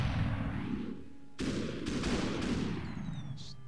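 Sharp bursts of gunfire in the video game Superhot crack out over a rumbling background, several shots in quick succession, with a faint whistling whine near the end.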